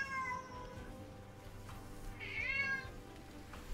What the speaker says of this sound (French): Petit chat qui se manifeste.